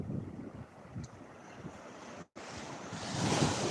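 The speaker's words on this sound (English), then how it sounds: "I love waves, I do. The sound of waves sends me to sleep." Ocean surf washes continuously along the seafront at Lyme Regis, with wind buffeting the microphone and a brief dropout midway. The waves swell louder toward the end, and no one talks.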